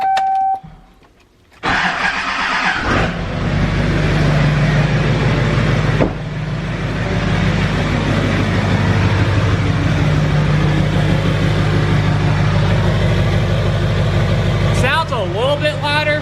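An LBZ Duramax diesel pickup fitted with a 3-inch downpipe cranks briefly, fires up loudly and settles into a steady, rumbling close-up idle, with a short whirring sound near the end.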